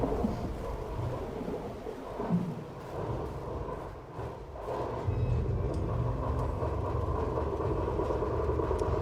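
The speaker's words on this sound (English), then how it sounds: "the train itself feels ominous. It is making horrific sounds." A train in the video game Indika rumbles and groans ominously, a heavy rolling roar with creaks and deep swells that grows louder and more continuous toward the end, with no talking.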